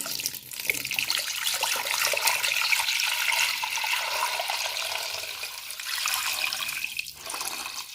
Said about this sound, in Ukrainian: заливаю холодну водою